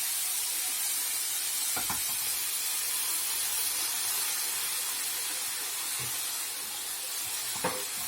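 Carrot halwa with molasses steams and sizzles in a pan, a steady close hiss with a couple of soft stirring scrapes, no talking.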